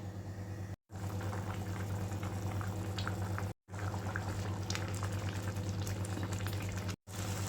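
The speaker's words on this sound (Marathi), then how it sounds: "आता झाकण लावून आपण ह्याला शिजू देऊया" Samo rice with coriander and coconut simmers under a lid, giving a steady bubbling and hissing with a low hum beneath, close and even, briefly cut to silence three times.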